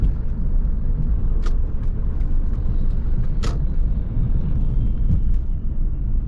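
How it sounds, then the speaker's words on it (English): A 23-year-old Lexus SC430's V8 engine hums steadily while the car drives, a constant low rumble filling the cabin with a few faint higher ticks over it. "And you can hear that V8."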